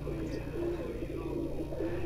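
A tiger pigeon held in a man's hand, a sturdy bird with unusual coloring, gives low steady cooing close by, a continuous soft murmur under a steady background.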